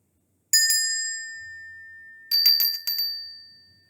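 Small metal bells ring one after another: a bright double ding that fades slowly, then after a pause a quick cluster of high ringing strikes with long, clear decaying tones, close and loud against silence.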